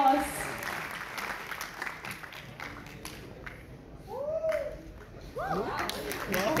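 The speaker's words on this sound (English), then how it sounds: "Let's have a big round of applause for her." A college audience at Maharaja Agrasen College, Delhi University, claps for a Miss India guest. The applause is fairly quiet and sits under speech and shouts, and the clapping thins out as the talking goes on.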